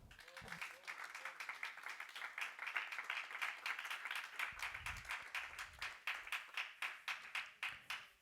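A church congregation claps hands together in a steady, rhythmic beat, sustained and fairly even, with brief voices underneath at the start and partway through.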